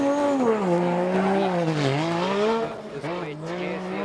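The HKS Toyota 86 drift car at the D1GP Odaiba round roars loudly as it drifts, its engine pitch rising and dipping as the throttle is worked. Tire noise runs underneath.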